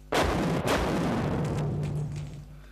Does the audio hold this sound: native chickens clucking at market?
no